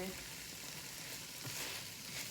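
Shrimp fry in a pan for a Thai shrimp curry, giving a soft, continuous sizzle with faint stirring scrapes, heard close and alone at low volume.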